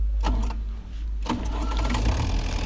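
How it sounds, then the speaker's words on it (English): A generator engine is started during a pre-service check: a few sharp cranking bursts give way to the engine catching and running with a steady close rumble, and no one speaks. "So I'll start the engine and see the things that need to be worked on."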